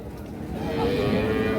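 A cross Jersey cow lets out a single low, drawn-out moo at a cattle market, close and steady with a soft hum of background noise.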